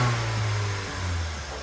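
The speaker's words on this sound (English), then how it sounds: "when you rev the engine from cold, there's no nasty knocks or rattles" A used car's engine, started from cold, gives a brief rev: a loud, close low drone that rises and then settles, without knocks or rattles, alone with no talking.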